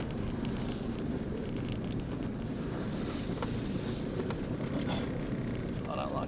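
A 4WD pushes off-road through a deep puddle on a muddy trail, with a continuous loud rush of churning water and low engine rumble under gusty wind buffeting the microphone.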